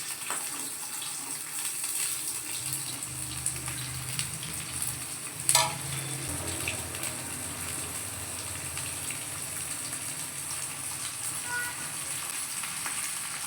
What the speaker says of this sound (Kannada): ಸಾಸಿವೆ ಜೀರಿಗೆ ಚಟಪಟ ಆದ ನಂತರ ಈರುಳ್ಳಿ,